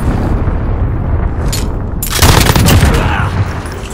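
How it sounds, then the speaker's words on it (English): A cruise missile strike in the Call of Duty Modern Warfare video game makes a loud, close burst of gunfire and rumbling explosive noise, jumping sharply midway and then fading slowly amid continuous battle din. "Enemy cruise missile incoming."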